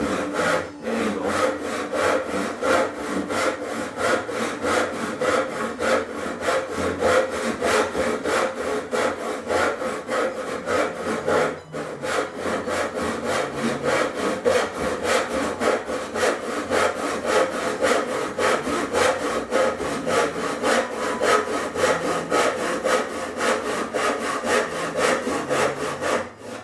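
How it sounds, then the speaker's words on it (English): Saw cutting 30-degree angled supports into cherry wood drop-leaf table aprons, a steady, loud rasping of repeated strokes running continuously with a brief pause near the middle. "Cutting out the angled supports on the aprons here, and that's a 30-degree"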